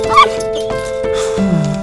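Short, sharp barks from a dog in the Roblox game Brookhaven, a couple of quick yips over steady game music with no talking.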